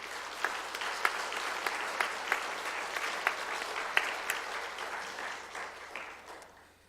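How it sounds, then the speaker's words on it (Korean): A Korean church congregation at a Sunday afternoon worship service in Bupyeong claps warmly in welcome, a full sustained round with crisp individual claps popping out, gradually tapering off near the end. "나오실 때 우리 박수로서 힘차게 우리 맞이하겠습니다."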